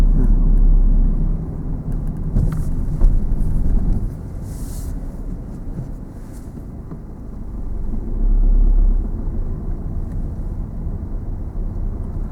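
A car engine hums low and steady during a driving lesson, its rumble swelling and easing as the car slows and moves on, with wind buffeting the microphone.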